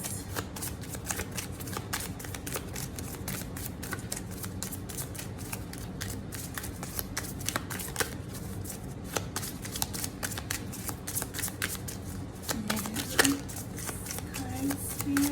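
Moonology tarot cards being shuffled continuously by hand, a steady close riffling and flicking that runs throughout with a slight bump near the end.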